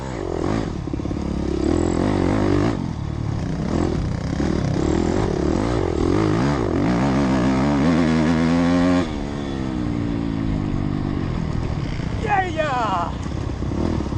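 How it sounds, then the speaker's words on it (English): A Husqvarna motorcycle races the last lap of a flat track event, its engine droning and revving steadily throughout, with shifting pitch as it chases other bikes, while someone talks over the noise. "Catching up to my buddy Mike here on his Husky, and Ronnie John's up ahead of him on a Honda"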